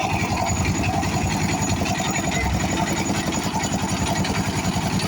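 Trawler boat engine run by the boatman, a continuous close, loud, rhythmic chugging drone that stays even throughout, with no talking over it.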